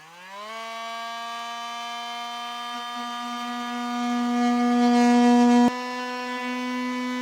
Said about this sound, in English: This plastic is pretty thick, so a Dremel or a multi-tool like this will be your best bet.